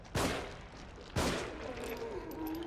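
Two sharp, loud gunshots about a second apart in the survival horror game The Evil Within, each with a short decaying tail, followed by a lingering ringing tone.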